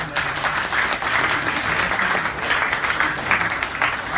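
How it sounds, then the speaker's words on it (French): An audience at the opening ceremony of a horror festival applauds to welcome a priest, dense sustained clapping from a large crowd filling the room at steady volume. "Vous pouvez donc l'applaudir."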